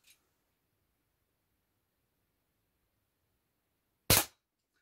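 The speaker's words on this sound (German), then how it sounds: "schießen wir mal ein bisschen mit Federbolzen" A single sharp shot from a Record LP 2 air pistol firing a feathered dart, near and crisp, after several seconds of near silence.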